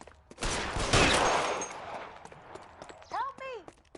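A burst of gunfire in the LA Noire video game crackles loudly at the start and fades over a second or two, followed by brief voiced sounds near the end.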